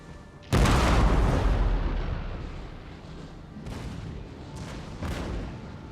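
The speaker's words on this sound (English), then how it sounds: "This gun is firing." Artillery gun firing in Napoleon: Total War, the Darthmod campaign: one loud, booming cannon blast that rings out and fades, followed by two fainter, more distant shots, with no talk.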